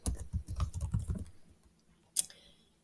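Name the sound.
typing on a computer keyboard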